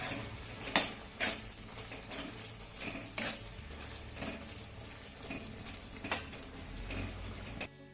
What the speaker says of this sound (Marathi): एकदा ही भाजी छान अशी हलवून घ्यायची आहे